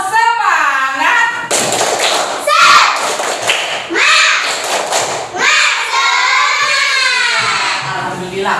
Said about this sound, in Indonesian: Ayo coba kita tepuk semangat dulu.